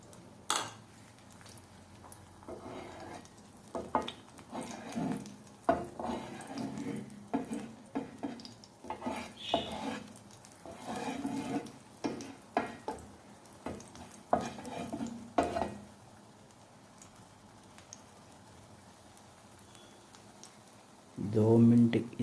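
Gram flour besan omelette cooking in a pan, soft sizzling with repeated scraping and stirring knocks of a utensil against the pan, near and moderate, with a voice briefly at the end.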